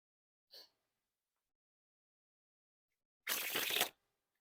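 Play Right Jumbo playing cards are fanned out face-up, giving a brief soft riffle followed after a pause by a longer, louder ruffling sweep, close by with no voices.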